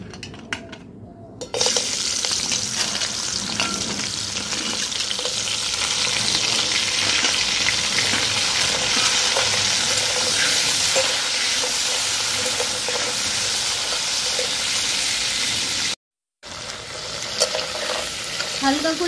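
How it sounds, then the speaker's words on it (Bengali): Crabs frying in hot oil, a dense steady close-up sizzle that carries without a break for most of the stretch, dropping out briefly near the end before resuming, with no talking. "তেল গরম হয়ে গেছে, এবার কাঁকড়াগুলো আমি ভেজে নেব।"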